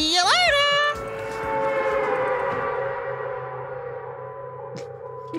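A wailing ambulance siren from the video game Danganronpa 2 rises and falls sharply at first, then settles into a long steady electronic tone that slowly fades, loud and prominent with no talk over it.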